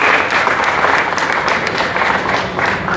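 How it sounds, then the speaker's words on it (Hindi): Loud, sustained applause from an audience at a union federation gathering in Malaysia, dense clapping that carries on steadily without pause and with no speech over it. "जोरदार तालियां"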